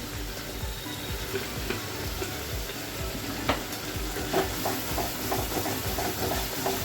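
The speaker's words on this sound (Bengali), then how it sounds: "এই মশলাটা আমি ভালো করে ফ্রাই করে নেব" Spices with turmeric, salt and cumin powder fry in a pan with a steady broadband sizzle, close and even throughout, with occasional soft stirring scrapes and no voices.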